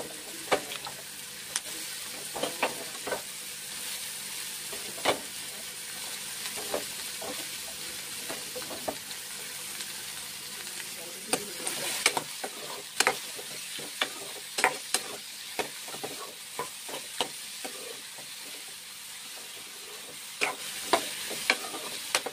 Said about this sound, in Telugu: కొద్దిగా ఫ్రై అయినివ్వాలి. ఇది ఫ్రై అయిన తర్వాత పొట్లకాయ వేసుకోవాలి.